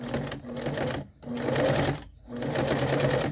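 Sewing machine stitching orange fabric for a small plush monster, running in steady bursts with two brief pauses where the needle is lowered and the piece turned around a curve, close and loud with no talking.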